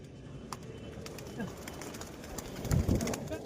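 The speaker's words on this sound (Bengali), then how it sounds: "খুব সুন্দর কবুতর, খেলার কবুতর," Low, soft cooing from pigeons at the Beldanga pigeon market rises through a murmuring crowd, with a fuller, closer coo near the end.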